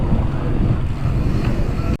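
Strong wind buffets a cyclist's microphone on a climb during the Batman Loop ride, a loud, deep, rumbling roar that carries on steadily and then cuts off abruptly at the very end.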